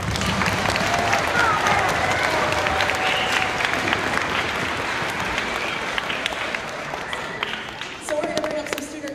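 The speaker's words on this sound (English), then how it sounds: "Let's give them another round of applause." Audience applause fills a school spring concert after an orchestra performance: dense, sustained clapping from a sizable crowd that stays loud, then tapers slightly near the end.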